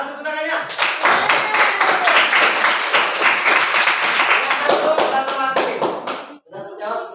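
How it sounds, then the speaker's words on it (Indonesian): A classroom of students breaks into brisk, dense applause, many hands clapping together in a sustained burst that tapers off, with voices mixed in and a brief pause before a few more claps. "Mana tepuk tangannya?"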